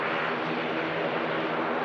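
Steady, loud roar of aircraft engines and propellers at Manchester Airport, a continuous broadband rumble with no breaks and no voices.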